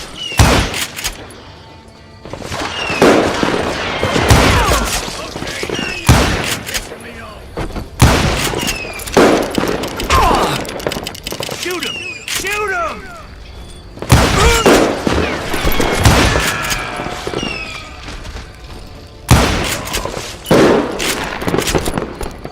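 Gunfire in the Western shooter Call of Juarez: Gunslinger comes as repeated loud shots and bursts in clusters, with booms and impacts, while someone narrates between volleys.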